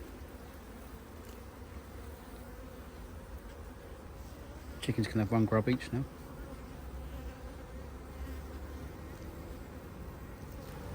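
Honey bees at an open hive hum in a faint steady drone, with one loud close buzzing burst lasting about a second midway; a person speaks briefly.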